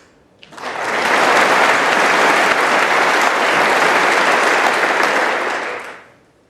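Steady, full audience applause at a snooker match, rising quickly, holding dense and loud for several seconds, then fading out.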